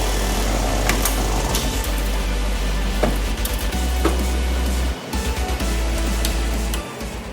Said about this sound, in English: The holes for the flow-form rivets on both sides are now pressed using the Express 800 rivet gun.